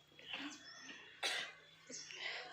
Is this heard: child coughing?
yes